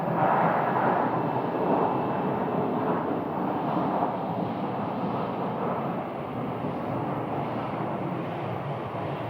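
Airliner at Phoenix Sky Harbor Airport, a broad, steady jet rumble heard from a distance, moderately loud and slowly fading, with wind-like noise around it.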